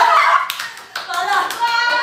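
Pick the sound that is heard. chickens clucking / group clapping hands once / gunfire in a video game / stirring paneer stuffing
group clapping hands once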